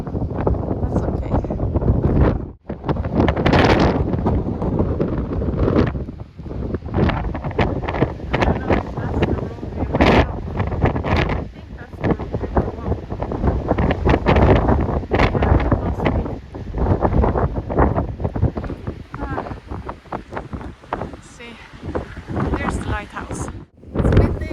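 Strong wind gusts beside Blue Lake near Loutraki, roaring and buffeting the microphone almost nonstop with brief lulls.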